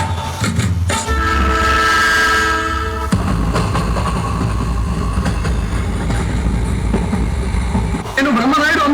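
A passing train sounds a loud, sustained horn for a couple of seconds, then rumbles and clatters steadily along the rails, close and heavy throughout.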